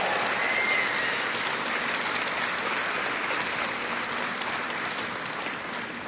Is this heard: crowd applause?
yes